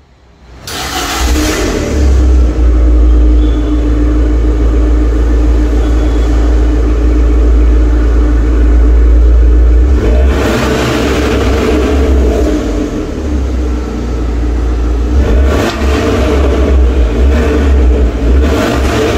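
Fiat Abarth 595 Competizione petrol engine with 160 bhp and a 5-speed automatic, a loud, close, sustained rev with deep rumble that dips and rises again partway through, with no talk.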